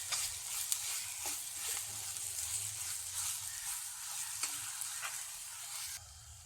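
Coriander powder being stirred into a frying masala base for a nadan chicken curry: a continuous close sizzle broken by soft scraping stirs, with no talking.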